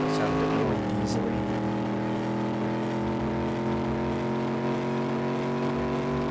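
Vehicle engine in the game Reckless Driver, a steady buzzing motor tone with layered harmonics that drops in pitch early and then holds level, running continuously under speech.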